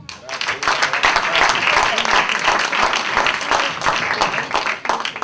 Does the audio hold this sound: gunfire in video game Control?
no